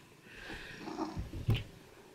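A cat purring close by in a home with an ironing board, soft low rumbling pulses building irregularly, with a louder snuffly burst near the end.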